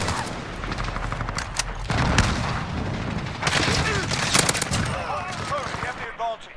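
Rapid gunfire in the video game Call of Duty: Modern Warfare crackles in dense bursts with booming impacts, loud throughout, while a player talks over the shooting.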